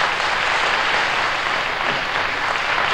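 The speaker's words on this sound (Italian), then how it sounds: "Facciamo un applauso." Studio audience on an Italian television variety broadcast breaks into steady, dense applause, loud and even throughout the short stretch with no talk over it.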